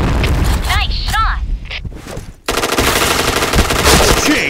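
Rapid automatic gunfire in the video game Point Blank, a dense, loud stream of shots with a short pause in the middle, then a sustained burst, mixed with game voice announcements and effects.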